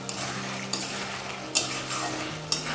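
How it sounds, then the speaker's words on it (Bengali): Partly cooked chicken for a Bengali chicken khichuri is stirred in a pot after simmering under a lid, with a soft sizzle and a few sharp utensil scrapes against the metal, close and without speech. "একবার ভালোভাবে নাড়াচাড়া করে নিচ্ছি।"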